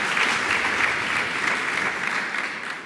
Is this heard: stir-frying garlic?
no